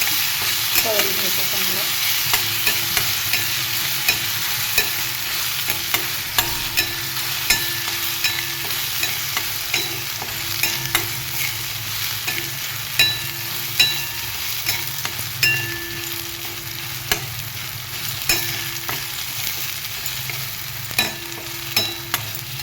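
Garlic fries in a pan with a steady crackling sizzle throughout, punctuated by frequent clicks and scrapes of stirring, fairly close.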